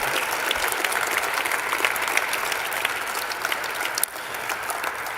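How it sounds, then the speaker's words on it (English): A large audience gives a sustained, dense round of applause for the newest University at Buffalo Athletics Hall of Fame inductees, the clapping loud and unbroken across the whole stretch. "How about one big nice round of applause for the newest inductees into the UB Athletics Hall of"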